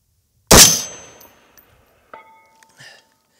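An M&P-10 rifle fires a single sharp shot outdoors, followed a moment later by faint distant metallic pings from a steel target at longer range.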